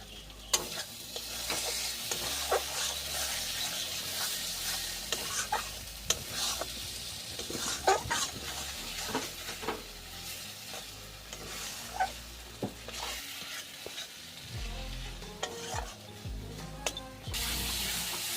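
Shrimp go into a pan for a mustard prawn dish and are stirred, giving scraping and clinking of a utensil over a moderate sizzle, with occasional louder knocks and a brief burst of running water near the end.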